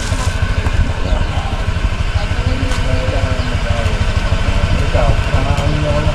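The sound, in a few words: motorcycle engine idling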